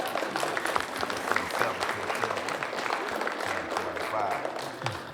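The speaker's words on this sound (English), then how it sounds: "Can we go ahead and give our panelists a round of applause, please?" A town hall audience applauds the panelists with sustained, even clapping from a full room for several seconds, with some voices mixed in.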